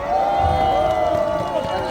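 Crowd noise at an outdoor political rally in Jinju, South Korea, with cheering and clapping, a steady dense roar with a voice shouting over it, loud and continuous.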